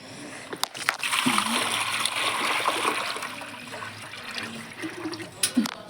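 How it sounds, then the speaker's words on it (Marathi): A pitcher of water is poured into a large cooking pot, making a soft, sustained splashing and sloshing that rises and tapers over several seconds, heard fairly close. "एक कळशी पाणी टाकून देते"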